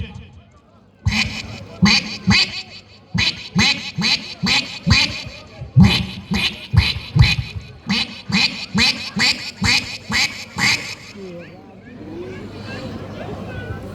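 A mimicry artist's voice imitating a middle-aged duck calling for its mate, a rapid series of loud, close nasal quacks in repeated bursts that fade to quiet near the end.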